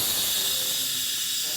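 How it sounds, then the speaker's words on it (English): Compressed air rushing out of the rear brake air valve on a tilting mounting arm, a loud continuous hiss held steadily for the whole short stretch with no other sound. "When tilting forward, air comes out of the rear brake air valve."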